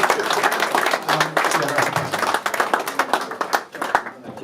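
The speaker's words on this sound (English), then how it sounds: "Massive round of applause there from Dave's family" A family applauds at a golf foursomes competition, a close, lively round of clapping that runs steadily for several seconds before tapering off.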